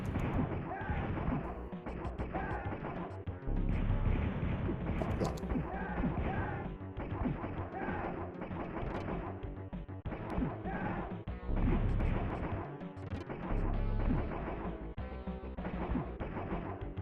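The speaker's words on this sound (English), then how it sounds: "There's a bunch of cannons everywhere." Cannons firing in the SNES game Phantom 2040, with dense, continuous crashing and banging game effects over steady background music.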